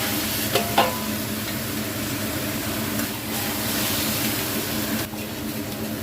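Fried tilapia pieces are stir-fried into chili paste with holy basil in a pan: a close, continuous sizzle with stirring scrapes near the start and a brief lull near the end, with no voices.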